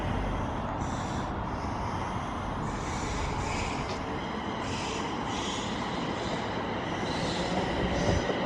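A London Midland train unit rolls past, a steady rumble of wheels on rail with faint metallic squeals, heard fairly close and continuous throughout.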